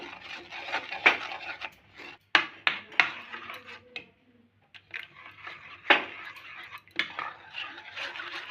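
Gram flour (besan) batter with a pinch of salt is stirred in a bowl for veg cutlets: a spoon clinks and scrapes against the bowl in irregular bursts, with a few sharper knocks and brief pauses.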